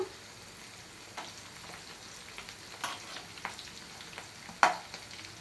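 Boiled bitter gourd pieces fry in a pan with a steady low sizzle, broken by a few soft scraping stirs and one sharper clink near the end.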